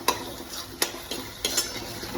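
Masala with cumin powder and garam masala is sautéed in a pan for egg curry: a steady sizzle sits under repeated scraping strokes of a spoon or spatula against the pan, close by, with no talking.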